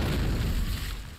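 A grenade exploding in Call of Duty: Modern Warfare, a brief, loud, deep rumbling boom that fades quickly.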